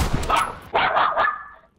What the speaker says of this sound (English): Damn, that dog don't like me at all.